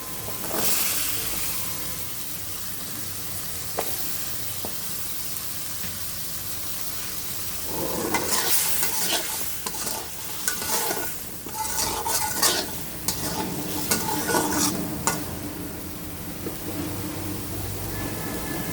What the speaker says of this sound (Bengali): এরপর আমি আলুটা ঢেলে দেবো